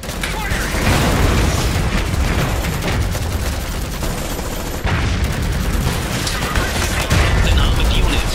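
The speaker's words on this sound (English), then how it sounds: "We're taking fire! Firing." Gunfire and explosions in the real-time strategy game Iron Harvest during a 2 vs 2 multiplayer battle, a loud, dense barrage of shots and booms throughout, with unit voice lines heard over it.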